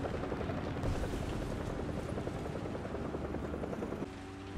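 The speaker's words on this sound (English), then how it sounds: "Friendly chopper still making moves." Helicopter rotor in War Thunder ground battles, a steady dense throbbing drone that stays loud and close throughout, with no voices.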